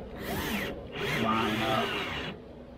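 A power drill fitted with a 7mm socket whirs in two bursts with a short pause between them, driving the window motor bolts home on a 2016 Hyundai Tucson front window; no one speaks.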